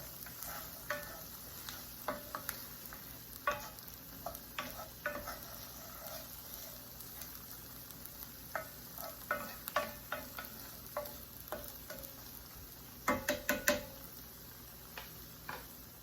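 Onions and carrots sauté in a pan for shepherd's pie, a soft continuous sizzle punctuated by frequent spoon clicks and scrapes against the pan, with a quick cluster of taps near the end.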